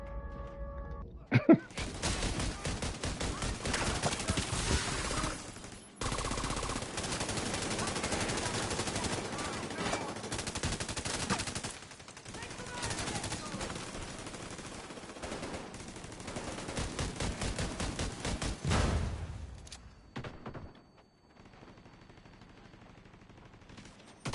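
Sustained gunfire from the video game The Division 2 played on PS5, rapid bursts of automatic weapons and shots filling about twenty seconds, loud and dense, then dropping away near the end.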